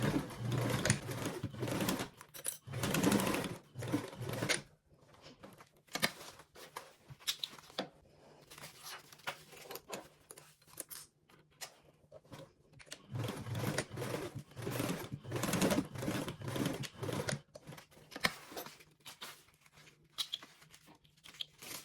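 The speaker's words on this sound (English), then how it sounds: "You're going to sew those two sides with a 3/8 seam allowance." A sewing machine runs in bursts while stitching two fabric sides together with a 3/8 seam allowance, its motor whirring loudly, pausing in quiet gaps, then resuming in longer close runs.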